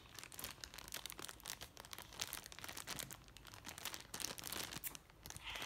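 Scissors snip open a plastic package with quiet, continuous crinkling and small tearing crackles, close but faint, with no talk.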